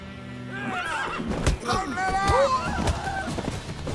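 A horse whinnies loudly in The Witcher 3, a rising and falling neigh close by amid clattering hooves, with a voice and other game sounds mixed in.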